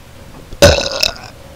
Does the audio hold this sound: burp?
yes